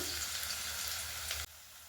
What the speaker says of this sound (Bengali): এরপরে বাকি সবজিগুলো একে একে আমি এগুলো ভালো করে ভেজে নেব।